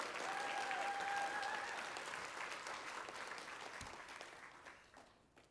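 Audience clapping at a 4-H awards banquet, a dense burst of applause that holds steady, then slowly thins and fades out over several seconds.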